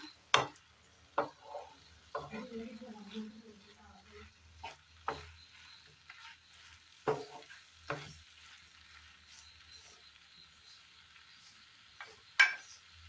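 A spoon scrapes and knocks against a pan while a spiced egg mixture is stirred gently, so the eggs stay whole. Sharp scrapes and taps come at irregular intervals over a faint, steady sizzle.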